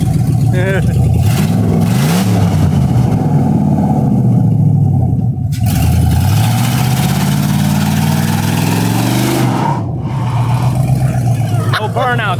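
A second-generation single-cab race truck engine runs loud and close after its first start, rumbling at idle with repeated throttle swells and revs; voices can be heard over it.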